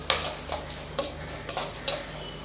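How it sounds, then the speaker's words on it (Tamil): Coconut rice ingredients being sautéed in a pan, with a utensil striking and scraping the metal in about five evenly spaced strokes over a faint sizzle. The clinks are crisp and close, with no voices. "இப்போ இது எல்லாத்தையும் சேர்த்து நல்லா வதக்கி விட்டுறலாம்."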